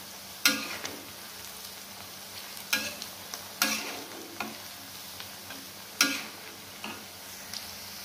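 Tempe being stirred and fried in oil in a wok, a steady light sizzle punctuated by several sharp scraping clatters of the spatula at irregular intervals.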